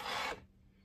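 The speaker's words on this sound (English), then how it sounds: "a lot of file work and hand sanding work" A rough rasping scrape from a hand file on a horn or antler tip overlay of a bow, loud for about a third of a second, then stopping and leaving quiet room noise.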